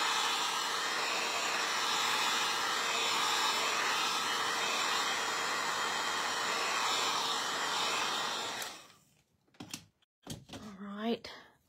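A hair dryer drying a craft project runs steadily with a loud, even whir for most of the clip, then cuts off abruptly, followed by a few thunks and faint talking.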